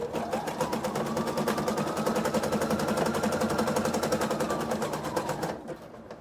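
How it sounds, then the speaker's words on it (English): Sewing machine stitching elastic into a gathered waistband, one continuous close run of fast, even stitching that stops near the end, leaving a faint hum. "go ahead and start sewing"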